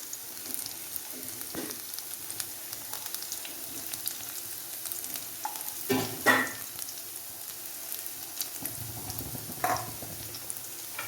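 Curry leaves, ginger and garlic sizzle steadily in a hot pan, a soft continuous fry marked by a few sharper pops and scraping stirs near the middle and end, with no talking.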